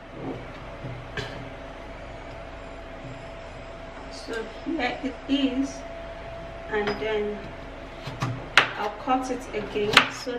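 Carrots being chopped into pieces with a knife on a board in a home kitchen, several close, irregular cutting knocks and taps over a faint background hum.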